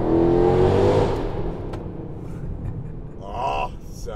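A Weistec-built Mercedes-AMG C63 engine revs hard close by, a loud rising roar that falls away, then a shorter rev surge later over road noise.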